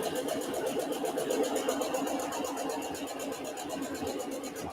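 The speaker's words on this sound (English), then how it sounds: "we're just going to sew at a moderate speed" Sewing machine stitching a Christmas table runner block at moderate speed, a steady close whirring hum with fast regular needle pulses running evenly throughout.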